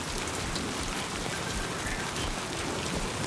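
Steady, dense timefall rain in Death Stranding 2 hisses continuously across the whole stretch, a close, even downpour drumming on surfaces with no voices over it.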